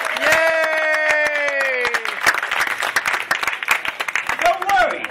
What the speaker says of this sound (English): We applaud him, right?